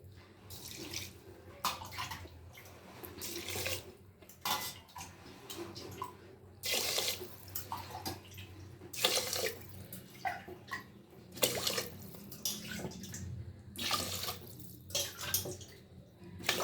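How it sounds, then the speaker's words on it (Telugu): Water poured glass by glass into a pressure cooker for tamarind rice, in a series of repeated splashing pours with brief gaps between them, fairly close and with no talk. "ఏడు ఓకే సెవెన్ గ్లాసెస్ పోసాను"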